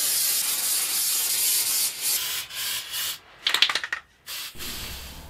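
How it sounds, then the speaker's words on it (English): Rubber waterproof leak-seal coating being brushed or sprayed onto a DIY shower drain pan frame, a close scratchy rubbing that runs steadily then breaks into short uneven strokes and stops, with no voices. "Now I'm going to put a layer of leak seal on it"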